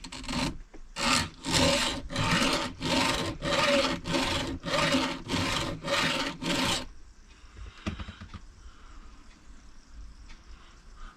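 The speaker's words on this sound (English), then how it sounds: "So we'll just put the file into the tooth like so." A metal file rasps in about ten steady, rhythmic strokes up close as it sharpens chainsaw teeth, then stops, leaving quiet background with a faint clink.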